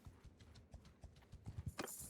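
Horses' hooves clip-clop on the ground in the medieval combat game Mount and Blade 2 Bannerlord, a quick uneven run of hoofbeats that grows denser and louder toward the end, with no talking.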